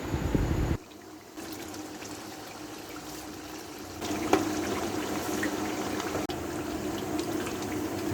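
Milk pours into a pot of palak gosht, spinach and mutton, as a soft, steady liquid trickle and splash heard close and faint, with small clinks near the middle and no talking.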